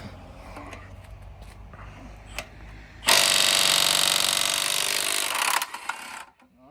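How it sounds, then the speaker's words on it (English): Milwaukee M12 Fuel brushless 3/8-inch drive impact wrench on a 12-volt battery hammering loose truck lug nuts, a loud close rattling burst of about three seconds that cuts off abruptly after quieter handling noises. "New fuel brushless 3/8 drive impact on 12-volt battery. See if this will break off any of these lug nuts."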